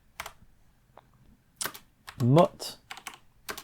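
Quick clusters of computer keyboard keystrokes enter a terminal command, close and crisp, with a short spoken word in the middle.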